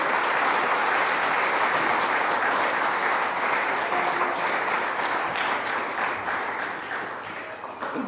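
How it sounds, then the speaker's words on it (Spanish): A church congregation applauds the Lord with dense, sustained clapping that stays steady and loud, then gradually fades toward the end. "Dale un aplauso al Señor"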